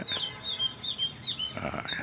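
A small bird sings in repeated high, thin chirps and short trills outdoors, moderately close, with faint background noise and no talking.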